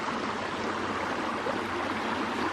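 A forest creek in Bankhead National Forest, Alabama, rushes in a steady, close, even wash of flowing water with no voices.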